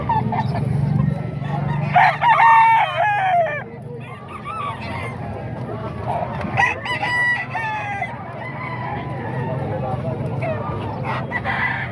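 A year-old bull stag, a young rooster, crows loudly and close by in a few drawn-out calls, with clucking and other fowl noises around it.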